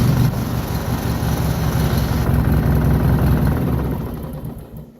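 A 17-horsepower single-cylinder tractor engine with a front tank and rear battery runs steadily and loud nearby, a rough low chugging idle that fades somewhat toward the end, with no talk over it.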